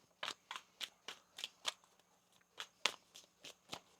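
Tarot cards are shuffled close by in a series of crisp, evenly spaced riffling snaps, about a dozen in all, quiet and alone.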